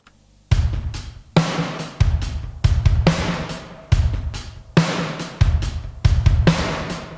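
A heavy virtual drum kit pattern, heavily compressed for a classic rock-style sound, repeats with booming kicks, cracking snares and washy cymbals, sounding dense and squashed, loud and continuous without voices.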